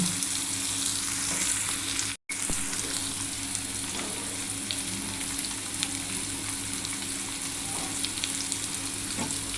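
Slices of teasel gourd (kakrol) fry in oil in a pan with a steady, even sizzle that holds throughout, broken only by one very brief dropout, with no talking.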